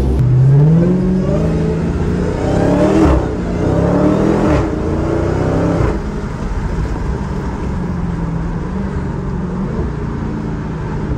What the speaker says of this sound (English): this is a 2016 Dodge Challenger Hellcat, 707 horsepower. We're gonna take this thing out on the Vegas Strip